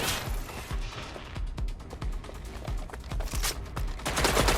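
Rapid, continuous gunfire from Watch Dogs: Legion: dense bursts of close, loud shots rattle through the whole stretch, with no talking over them.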